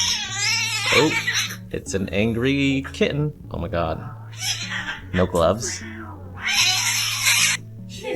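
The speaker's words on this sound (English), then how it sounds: "Oh, it's an angry kitten." An angry cat yowls and wails repeatedly with drawn-out, rising cries in an emergency room. Close and loud, it mixes with people talking.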